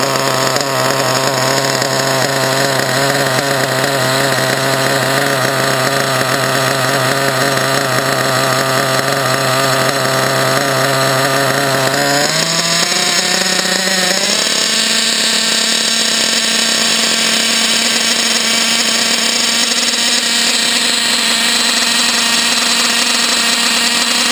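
A small RC model engine runs steadily for a long stretch while its carburetor is adjusted with a screwdriver, a loud buzzing whine that shifts pitch and settles at a new speed about halfway through.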